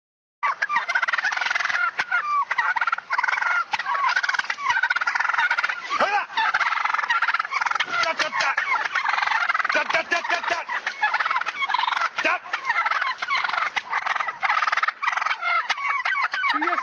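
Wild turkeys gobble on a road, a flock's rapid overlapping gobbles repeating almost nonstop, loud and close, with no talking.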